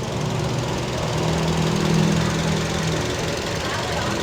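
A 2010 Toyota Yaris 1.5G engine idles steadily with a smooth, even hum, close by, with no knocking or sputtering.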